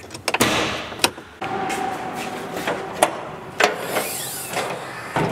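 Squeaking hinges of a Dodge truck door with brand new hinges, several sharp creaks and clunks close by, a rising squeal near the end, with no talk.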